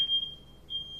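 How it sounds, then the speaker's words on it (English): A fire alarm gives two short, high, piercing beeps within a second, faint and set against a quiet room. "we have fire alarms going off"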